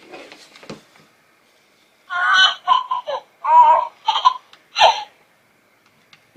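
Hasbro Baby Yoda animatronic toy giving a string of short baby-like coos, babbles and whimpers in close bursts after a quiet start, with no talking over it.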